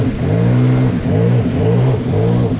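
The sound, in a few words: Sea-Doo Trixx personal watercraft engine revving while riding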